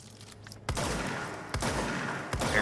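Gunfire in the video game Control, three loud close bursts of sustained shooting in quick succession, each firing off abruptly and rolling on without talk.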